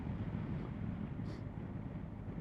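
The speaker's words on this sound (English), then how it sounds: "Suppose I'm not used to this type of engine, this boxer shift cam engine" A BMW R 1250 GS Adventure with its boxer ShiftCam engine runs at a steady low idle, a continuous rumble with some wind buffeting over it, sounding noisy, shaky and rattly.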